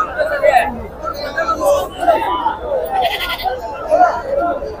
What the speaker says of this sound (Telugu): అన్ని ఎర్ర పొట్టేళ్ళే.